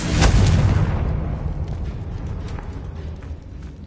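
A Confringo blasting spell in Hogwarts Legacy detonates in a single loud, booming explosion at the start, then a rumbling tail slowly fades away over a few seconds.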